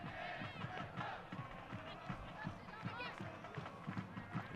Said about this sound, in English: An outstanding crowd on hand for this.